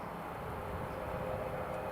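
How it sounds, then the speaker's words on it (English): Robinson R44 helicopter departing from Newcastle International Airport's runway 07, a steady broadband engine and rotor rumble heard at a distance, holding an even level throughout with no talk. "That Robinson R44 is just departing now."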